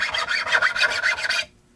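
A metal file rasps across the wood of a bass being reworked, about six quick rhythmic strokes close by, each a coarse scratchy pass, then sudden quiet.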